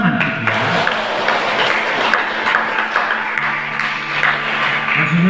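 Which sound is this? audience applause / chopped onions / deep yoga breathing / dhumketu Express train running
audience applause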